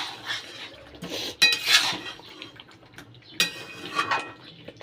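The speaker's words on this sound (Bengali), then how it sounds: "তো এইটা ভালো করে কষিয়ে নিই আলুগুলো দিয়ে" Mutton and potatoes being sautéed in a pot: a spoon scrapes and clinks against the metal in irregular bursts, fairly close, with quiet gaps between strokes and no talking.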